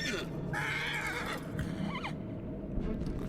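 A horse in the Shadow of the Colossus video game neighs once, a loud, close whinny that rises and then trails off over steady game ambience, followed by a short squealing call.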